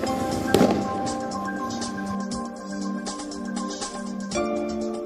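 Diwali fireworks bursting in a steady barrage, with one loud close blast early on and a continuous crackle of smaller explosions throughout, no voices.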